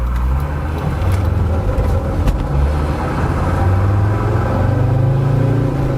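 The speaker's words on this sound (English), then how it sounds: "considering the boost is turned down on the turbo, this thing actually has quite a turn of speed on it" A 2001 SsangYong Musso 4x4 with a turbo engine, boost turned down, accelerates on the road in a steady, loud low drone that rises gradually in pitch, heard from inside with no talking.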